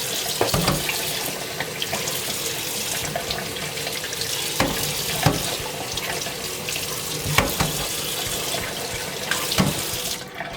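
Warm water runs steadily from a kitchen tap in a continuous splashing hiss, with occasional sharper knocks and clatters of dishes or jars against the sink.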